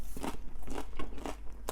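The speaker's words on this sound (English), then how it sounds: "they're very crunchy on the outside, lovely and chewy in the middle" Bites into the crunchy crust of homemade bread rolls with a chewy inside give close, crisp crackling crunches in a loose rhythm of about five bites, heard without speech.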